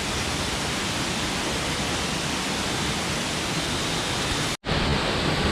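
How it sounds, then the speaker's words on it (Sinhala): Duwili Ella waterfall in the Sinharaja rain forest pours with a dense, constant rushing roar, loud and unbroken apart from a momentary cut near the end. "අපි 3 වෙනි වෝටර්ෆෝල් එක බලන්නේ."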